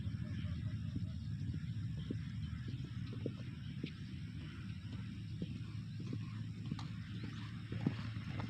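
Racehorse hooves clop in an irregular, moderately close rhythm at a training track in Takengon, Central Aceh, over a steady background rumble and hum.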